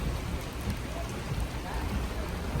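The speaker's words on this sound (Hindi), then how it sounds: "बहुत तेज बारिश शुरू हो गई है।" Heavy rain pours down in a sudden downpour, a dense continuous roar of drops drumming on surfaces, loud and steady throughout with no talking.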